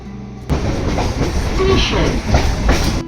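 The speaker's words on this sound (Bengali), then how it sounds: "এখন আমরা এসে পৌঁছালাম লক্ষ্মীকান্তপুর আবার এই ট্রেনটাই সকাল ছটার সময় পঁচিশ মিনিট দাঁড়িয়ে রওনা দেবে নামখানার উদ্দেশ্যে" A local train pulls into Lakshmikantapur station in West Bengal with a loud, close rumble and a rhythmic clatter of wheels on rails. A voice can be faintly heard under the noise.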